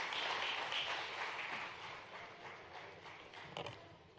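An audience at a national award ceremony in Bhopal applauds to welcome the chief minister, a fairly faint, distant patter of clapping that fades gradually over a few seconds.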